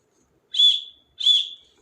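Two sharp, shrill whistle blasts from a tour guide, each about half a second long with a short gap between, loud and close with no talk.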